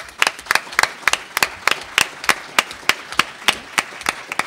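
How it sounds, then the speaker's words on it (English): Audience applause at an epilepsy conference family day, made of sharp, fairly sparse claps with a loose, uneven rhythm, close and distinct, suggesting a small group clapping. "I want to give Shanda a round of applause"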